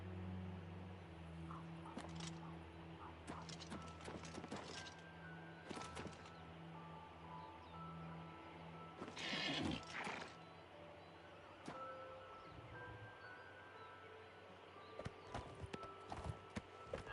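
A horse's hooves clip-clop in the video game Oblivion, scattered fairly faint steps with a brief louder burst midway, under a steady bed of ambient music.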